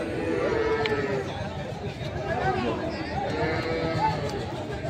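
Dairy cows of a local breed at a busy rural cattle market, with lowing and livestock calls under a constant wash of crowd chatter and nearby talk.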